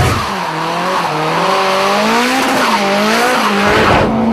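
Custom cars drift with loud, sustained tire squeal that wavers up and down in pitch over the roar of engines, continuous and close throughout.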